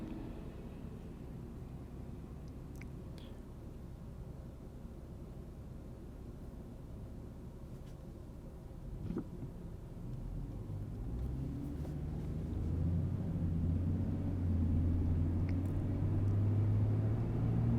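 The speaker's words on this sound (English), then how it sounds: "Watch some of the traffic." Traffic on Route 12 in Connecticut passes a car stopped at a red light: a quiet idle rumble at first, then vehicles sweep by and a heavy low engine drone grows louder and closer toward the end.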